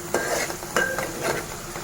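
Onions fry in oil for a fish curry, giving a soft continuous sizzle broken by three distinct scraping stirs of a utensil against the pan, close and fairly loud.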